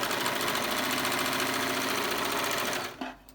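A Merrylock MK480 overlocker runs fast and steadily for about three seconds, a dense, even mechanical whirr of stitching, then stops abruptly, leaving a brief clunk and quiet.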